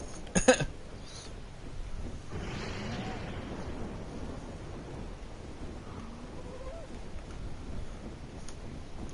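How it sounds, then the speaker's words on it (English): Thunder rumbles through a lightning storm in the video game ARK on PS4, with a sharp crack near the start and then a long, low, steady roll. A voice talks faintly over it. "See, I love the lightning."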